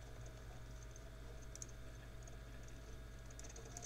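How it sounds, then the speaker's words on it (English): Typing on a computer keyboard makes faint, sparse clicks over a steady low hum, with a few light taps scattered through the stretch and no voices. "That's what my typing sounds like. It sounds like a storm."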